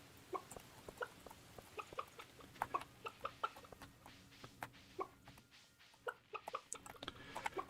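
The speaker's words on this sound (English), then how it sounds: "Let's check in on the chickens." Chickens in the farming game Stardew Valley cluck in short, irregular bursts, several soft calls overlapping at a moderate distance over a quiet ambient bed, with no voices.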